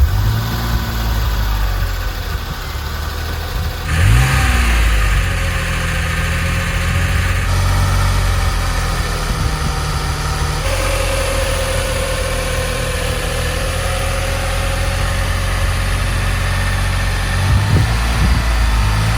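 A DeLorean time machine replica idles steadily nearby, a low continuous engine rumble with a slight change in pitch partway through and a few faint knocks.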